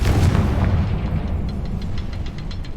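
In the video game Hogwarts Legacy, Bombarda and Confringo spells set off explosions, heard as a dense, rumbling blast that decays into a crackling, fizzing tail of debris.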